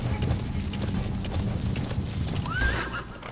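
D-Horse from Metal Gear Solid 5 gallops with steady clip-clop hoofbeats throughout, then gives a loud neigh near the end.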